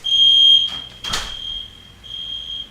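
A fire alarm goes off during a drill, sounding a loud, steady high-pitched electronic tone that cuts out briefly, followed by a short burst of noise, then starts again. Nobody speaks.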